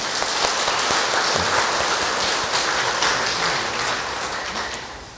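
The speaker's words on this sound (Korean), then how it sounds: "박수 한번 쳐주세요" Applause from a church congregation during a Korean Catholic Mass on the feast of the archangels, sustained dense clapping filling the hall for several seconds at steady loudness, tapering slightly at the end.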